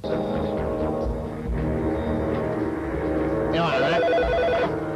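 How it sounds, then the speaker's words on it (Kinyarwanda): A telephone rings with a repeating electronic tone that rises clearly near the end, sounding over a dubbed action film's background score and dialogue. "telefone"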